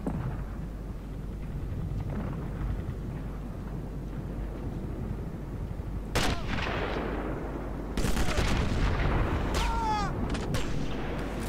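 Gunfire in the World War II shooter Sniper Elite rings out over a steady rumbling background, with sharp rifle cracks and booming blasts around six and eight seconds followed by scattered echoing reports.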